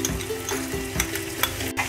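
Shallots, green chilli, ginger and garlic fry in a pan for fish pollichathu, a close steady sizzle broken by regular scraping stirs and small crackling pops.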